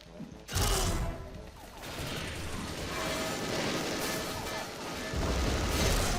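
A sudden loud blast in the video game Xshot opens into sustained rumbling crashes and rolling explosive bursts, like heavy game combat with faint speech underneath.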